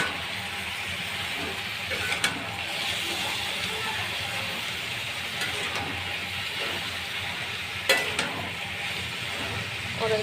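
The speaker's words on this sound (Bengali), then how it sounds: "এখন মশলা দেওয়া হয়েছে, আমি একটু ঘেটে নেব।" Curry with turmeric, ground chilli and spices sizzles steadily in a pan while a utensil stirs it, giving a continuous close frying hiss broken by a few scraping clicks, with no talking.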